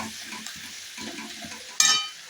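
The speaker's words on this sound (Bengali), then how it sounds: "মাংসটা কষিয়ে নিচ্ছি" Marinated meat being browned and sautéed for a Bengali kosha curry: a steady sizzle broken by rhythmic stirring strokes, then a sharp metallic clink and scrape of the spatula against the pan, close and without talk.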